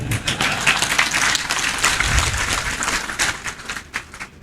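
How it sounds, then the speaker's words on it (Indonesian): An audience gives hesitant applause: a loose, uneven patter of clapping that runs steadily for a few seconds, then thins out toward the end. "Kenapa Anda tepuk tangannya ragu-ragu?"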